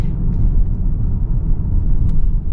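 A 2026 Lincoln Corsair engine accelerates with a steady low rumble heard close from the cabin, with no voices over it.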